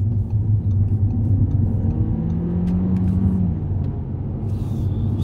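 An Audi A3 Sportback driving and accelerating through Tokyo streets, a steady low engine and road rumble heard from inside the car, with a faint rise in engine note midway.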